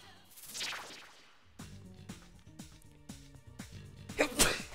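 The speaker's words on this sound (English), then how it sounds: "I'm gonna sneeze." A single loud sneeze bursts out near the end, after a sharp inhaled buildup, over background clatter and faint voices.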